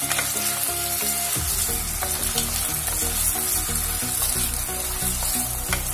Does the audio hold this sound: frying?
yes